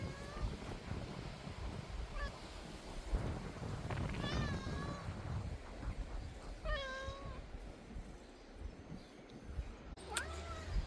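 A very noisy cat meowing near an allotment garden with a planted-up pig pen, several drawn-out meows spaced apart over steady wind noise, fairly close.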